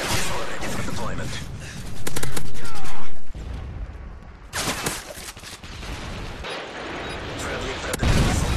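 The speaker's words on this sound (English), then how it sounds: "Friendly Predator missile inbound." Predator missile strike in a video game with kill streaks: gunfire rattles throughout, then a loud sustained blast roars for about a second before cutting off, with scattered shots and rumbling afterward.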